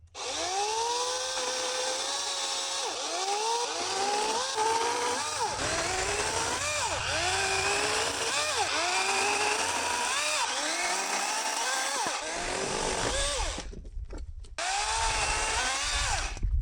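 Battery-powered chainsaw biting into wood outdoors after an ice storm, loud and close, its motor pitch sagging and recovering in repeated cutting strokes before it briefly cuts out.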